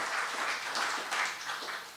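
Applause from a standing-room-only crowd at the Hix dedication, a soft, steady wash of clapping heard from a distance for about two seconds.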